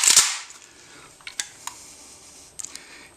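A single sharp metallic click as the sear of an AK rifle trigger releases, followed by a few faint small clicks of the trigger mechanism, close and isolated with no talking.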